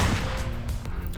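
Video game gunfire: loud, dense bursts of shots crackling close up in quick succession over a brief stretch, with a few sharper cracks standing out.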